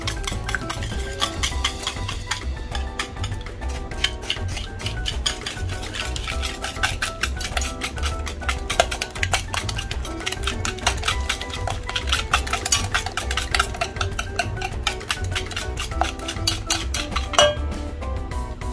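A utensil briskly stirs butterscotch cake batter of eggs, flour and sugar in a bowl, making steady rapid clinking and scraping with no voices.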